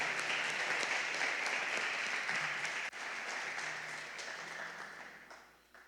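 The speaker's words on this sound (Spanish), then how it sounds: "Dan un fuerte aplauso a Dios." A church congregation applauds loudly and continuously, a dense wash of clapping that holds steady, dips for an instant, then fades toward the end.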